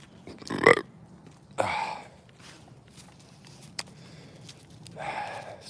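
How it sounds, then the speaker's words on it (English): A person lets out a burp outdoors after eating an Altoid mint, a short, close, throaty burst followed by softer rustling and a later drawn-out sound. "that was an Altoid burp"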